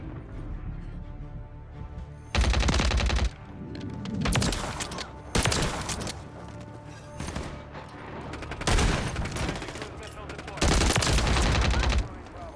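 Loud bursts of automatic gunfire in Call of Duty MW3 come in several sharp volleys over a few seconds, with quieter game noise between them.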